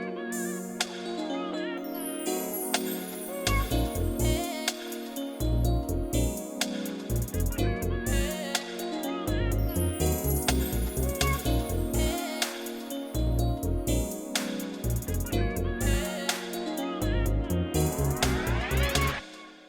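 FL Studio beat intro, with layered synth chords, a pulsing deep bass pattern, bright chime tinkles and a rising sweep near the end, all loud and steady with no voice.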